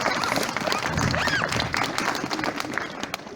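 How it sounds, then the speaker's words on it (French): Audience applause at a festive show, moderate and somewhat ragged, with scattered clapping mixed with crowd murmur and a few whoops over a noisy background. "Un tonnerre d'applaudissements."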